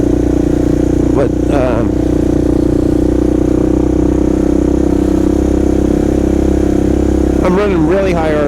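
A Kawasaki KLR650 motorcycle is ridden on slushy roads with its engine held at high RPM. A loud, steady engine drone fills the clip, and a voice speaks briefly near the start and again at the end.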